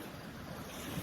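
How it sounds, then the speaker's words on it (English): Wind blows across a lake with the water agitated into small lapping waves, a steady broadband rush with microphone buffeting, close and continuous with no talking. "we got a little wind, we got a little agitation in the water today."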